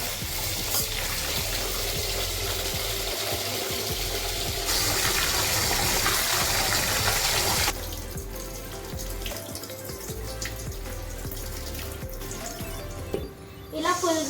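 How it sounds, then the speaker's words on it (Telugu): Biryani rice being washed under running water, a steady splashing gush from a tap into a vessel that changes in tone as the flow shifts, then ends in softer stirring and drips. "బిర్యానీ రైస్ని మంచిగా కడగాలి."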